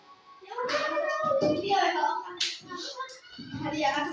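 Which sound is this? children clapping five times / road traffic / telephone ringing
children clapping five times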